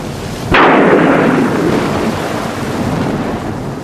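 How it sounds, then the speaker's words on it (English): A sudden loud bang like a thunderclap directly overhead, followed by a long rolling rumble of thunder that slowly fades, with no voices. "This was followed by a clap of thunder directly overhead."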